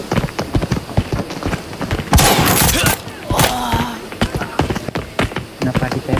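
Gunfire rings out in the video game Arena Breakout: rapid, sharp shots in bursts, close and loud, with a dense longer volley in the middle and a voice speaking briefly amid the shooting.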